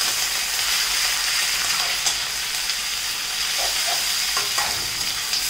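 Half a kilo of mutton sizzles and crackles in a hot pan while being stirred, with a bright steady frying hiss and occasional scraping stir sounds close up, no voices.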